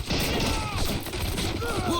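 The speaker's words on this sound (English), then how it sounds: "There's a lot of explosions going on here. A bunch of grenades being tossed, I guess." Explosions and grenade blasts in the video game Army Men crackle in a dense, continuous barrage of gunfire-like bangs, loud and close, with faint voices in the mix.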